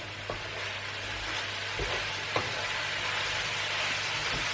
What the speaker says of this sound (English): you can hear the music of our stir fry cooking